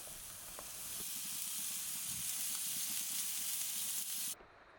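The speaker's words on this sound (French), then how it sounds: "On retourne les brochettes régulièrement de manière à ce qu'elles ne brûlent pas." Marinated Thai-style chicken skewers sizzle on a barbecue grill, a continuous loud hiss with faint crackles and pops, heard close and alone before the sound cuts off near the end.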